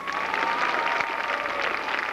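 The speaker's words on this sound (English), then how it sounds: "Let's welcome with a great round of applause from Colchester, Vermont, number 32, Rick De" Dense, continuous crowd applause at a 1992 Thunder Road stock car race weekly show, welcoming a driver, heard as a steady wash of many hands clapping with a faint hum underneath.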